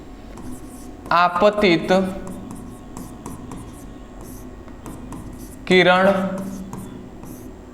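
Writing on a board during a physics lesson on refraction of light makes two short bursts of scratchy strokes, close and fairly loud, while someone talks between and over them.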